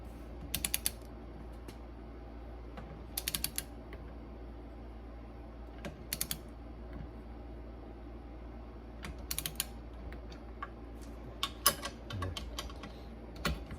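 Torque wrench tightening water pump bolts on a Ferrari 328: short bursts of ratcheting clicks come in separate clusters over a quiet background hum, close and fairly faint, with no talking.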